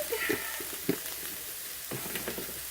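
Chicken frying in a pan as it is stirred, a close sizzle broken by several scraping, clattering stir strokes in uneven bursts, with no talking.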